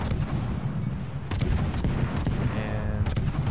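The destroyer Benson fires its guns in World of Warships, several sharp booming salvos over a rumbling sea-battle backdrop, loud and close.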